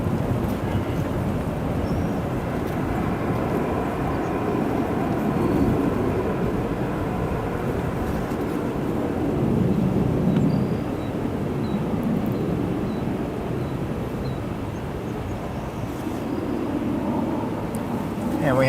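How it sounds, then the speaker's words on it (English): A United Express Embraer 175 passing over near O'Hare International Airport, a broad steady jet roar that swells and eases at middle distance for the whole stretch, with no talking. "That aircraft flying over is United Express, an Embraer 175 long range coming from Appleton"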